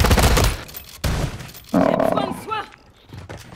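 Gunfire in a Call of Duty match, several loud bursts of shots and cracks in quick bunches with brief pauses between, partly under excited talk.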